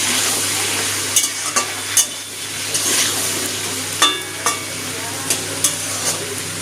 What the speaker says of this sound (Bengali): নুন হলুদটা মিশিয়ে নিয়ে ভেজে দেবো সবজিটা